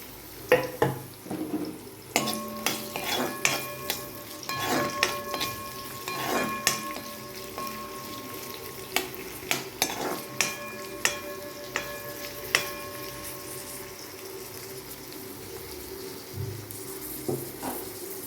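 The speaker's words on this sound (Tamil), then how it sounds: "வெங்காயம் கொஞ்சம் ஃப்ரை ஆகட்டும்" Onions frying in hot oil in a pan, a steady close sizzle broken by repeated metallic stirring clinks and scrapes, with no voices.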